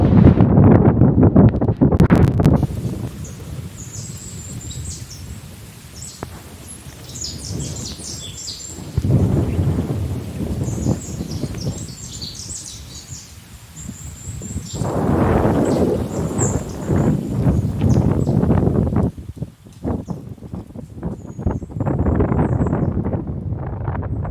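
Strong wind gusts outdoors, buffeting loudly in repeated surges with brief lulls, while faint birds chirp high and distant and nobody speaks.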